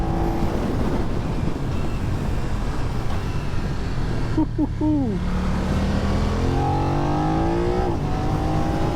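A BMW F900 motorcycle engine accelerates hard and climbs in pitch, then drops briefly at a gear change and pulls up again. It sits loud and close under constant wind rush.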